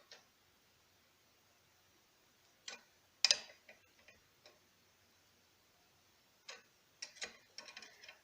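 A Cal Van 167 double flaring tool is tightened down by hand on a brake line, giving faint, sparse clicks and ticks with long quiet gaps between them.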